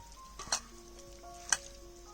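Marinated bangda mackerel fries Konkan style on a wood-fired clay stove. A faint, quiet sizzle runs under a couple of soft clicks and thin tonal hums.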